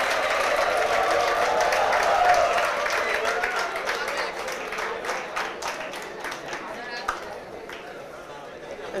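An audience claps steadily for a birthday, a loud dense burst of applause that gradually thins and fades toward the end, with scattered individual claps standing out.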